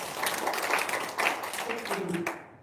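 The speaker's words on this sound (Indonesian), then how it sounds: "Tepuk tangan dulu dong." A small group in a room claps briefly for a woman about to give a testimonial, the scattered clapping mixed with voices and ending by the close.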